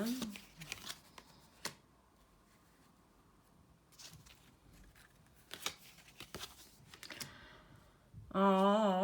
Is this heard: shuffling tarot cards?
yes